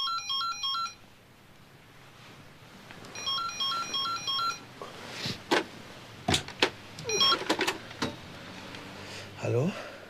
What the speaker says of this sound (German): Aber in der Nacht ging das Telefon.